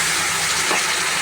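Water poured onto frying spices with ginger, garlic, chilli and turmeric for a cauliflower masala, giving a loud, steady, close hiss of sizzling that fills the whole short moment.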